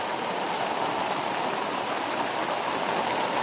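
Heavy rain pours down steadily at a campsite, a dense, even hiss with no breaks and no voices.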